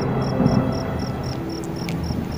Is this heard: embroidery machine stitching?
no